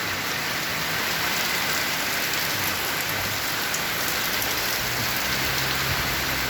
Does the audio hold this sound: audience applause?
no